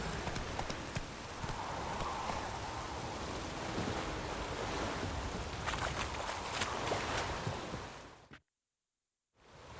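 Horse hooves clip-clop at a steady trot in The Witcher video game, close and fairly loud over a soft rushing ambience, continuing for about eight seconds before cutting to silence.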